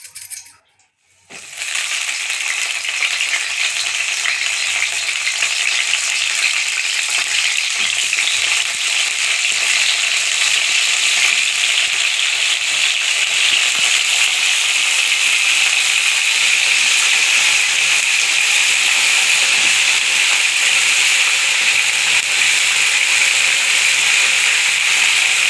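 Eggplants, slit and salted for a stuffed curry, frying in oil in a pan: a steady, loud, bright sizzle that starts after a brief quiet moment and holds evenly throughout, with no talking.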